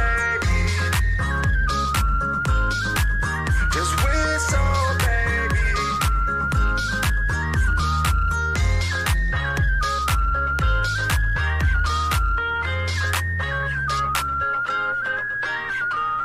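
A whistled melody runs through a recorded pop song, carrying a steady tune over a driving beat and bass, loud and continuous for the whole stretch.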